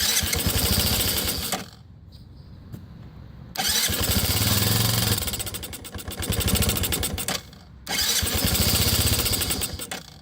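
A 1985 Yamaha Moto 4 80cc ATV with a poorly running carburetor is started on choke, its small engine buzzing loudly in three bursts separated by brief quiet gaps, running rough and unsteady.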